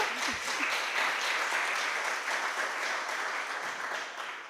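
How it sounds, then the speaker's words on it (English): Steady applause from an audience at a food gift presentation, greeting a designer from a crafts company; dense, even clapping fills the whole stretch, slightly tapering at the end. "Round of applause for the designer"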